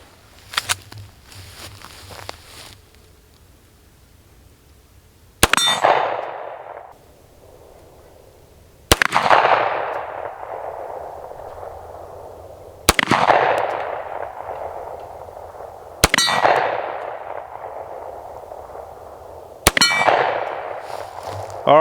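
Girsan Witness 2311 pistol fired with its factory magazine, each shot ringing off a steel target: six loud, sharp cracks spaced a few seconds apart, each followed by a metallic ring that fades out. Nobody talks.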